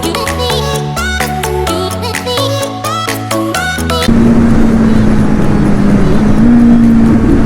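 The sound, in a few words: Kawasaki Z900 motorcycle with new exhaust riding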